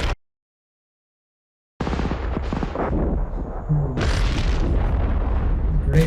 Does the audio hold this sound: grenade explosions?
yes